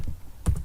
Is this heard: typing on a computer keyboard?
yes